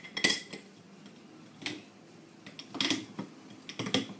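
A knife chops organic 85% dark chocolate into small chunks on a board, giving a few sharp, close taps and clicks separated by short quiet gaps.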